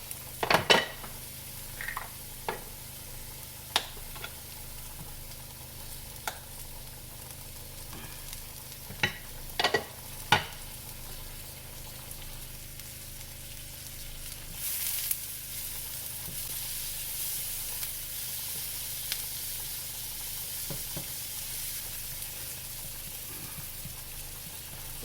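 Butter and seasoned shrimp in a pan, with garlic powder, onion powder, salt and pepper: a low steady sizzle broken by sharp clinks and scrapes of a utensil against the pan, no talking.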